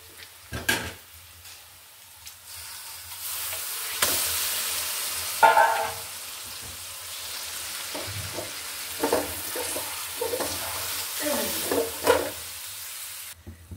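Spices and banana stem frying in a pan for a Bengali stir-fry, a steady sizzle with repeated scraping and stirring strokes and occasional clinks of a utensil against the pan, close and moderately loud with no talking.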